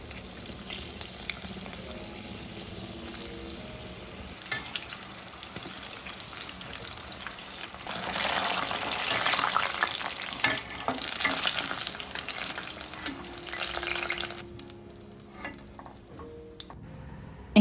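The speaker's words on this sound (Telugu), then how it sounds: "దీనికి కాంబినేషన్గా బజ్జీ చేస్తున్నాను" Chilli bajji fritters fry in hot oil in a home kitchen, a continuous crackling sizzle that swells loudest midway, with occasional stirring sounds and no speech.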